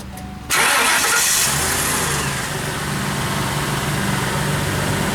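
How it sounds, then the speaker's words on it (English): A car engine starts after an exhaust leak repair, catching abruptly after a brief quiet moment and then settling into a steady, close idle with a light rev early on. "Let me start this thing up."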